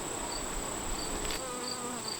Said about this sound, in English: you can see there's lots and lots of bees on this frame